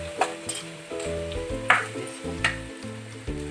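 Cumin and coriander seeds frying in a pan with a steady close sizzle, punctuated by a few scraping stirs and clinks of a utensil, with a single brief spoken word.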